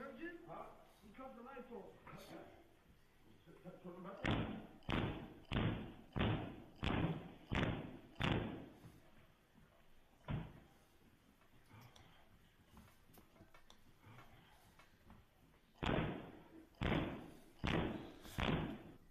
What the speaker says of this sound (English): He had to go through that whole scene, knocking doors down.